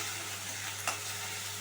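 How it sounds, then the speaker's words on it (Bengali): A ground paste of ginger, green chili, whole cumin and coriander seeds fries steadily in a pan, giving a constant soft sizzle with one brief stir-like knock partway through and no voices. "একটু ভালো করে ভেজে নেব, যাতে মশলার একটা গন্ধ আছে ওটা যাতে চলে যায়"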